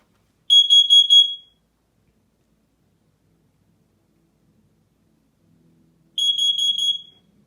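Smoke alarm under test, two loud close bursts of rapid high-pitched beeping, about four beeps each, separated by several seconds of silence.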